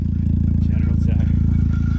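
A 2023 Can-Am Outlander 1000 ATV engine idles and revs steadily up close with a rough, lumpy exhaust note from a missing exhaust, running continuously throughout.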